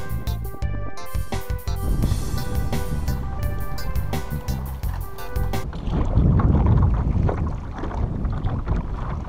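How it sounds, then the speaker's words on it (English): Wind blowing across a dune lake near Destin, Florida, during stand-up paddleboarding, a loud steady rushing buffet on the microphone with tonal hum and clatter early on, then a broader roar. "struggling with the wind cutting across the lake here"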